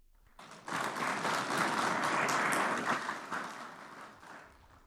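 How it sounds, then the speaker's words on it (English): Subdued audience applause at a summit opening in Ghana, a steady patter of many hands at low level that swells briefly and then tapers off over a few seconds. "That's why the applause is not loud."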